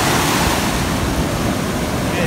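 Ocean waves at the beach, a loud, continuous rushing wash of surf with wind buffeting the microphone, no clear talk over it.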